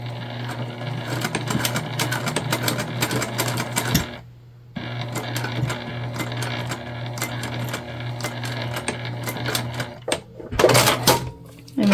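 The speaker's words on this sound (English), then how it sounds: "then we are gonna top stitch that down" A sewing machine runs close and steady, topstitching down the zip tabs on a crossbody bag, with a continuous mechanical hum, a brief stop partway through and a few clinks near the end.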